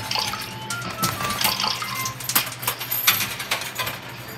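Mechanical clattering and rattling from a Deep Sea Treasure arcade ticket redemption shooting game as it dispenses tickets, with busy, uneven clicks over continuous arcade background noise.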